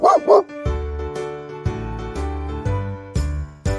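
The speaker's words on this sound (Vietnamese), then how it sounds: "Con chó." A dog gives two quick, close barks right at the start, then music takes over for the rest.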